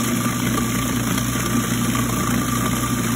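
A food processor runs steadily while blending a chunky sandwich spread, its motor drone loud and close and holding without a break through the whole stretch.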